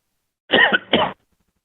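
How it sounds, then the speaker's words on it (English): Two quick harsh coughs close to the microphone during an earnings conference call, followed by silence. "I apologize for all the coughing."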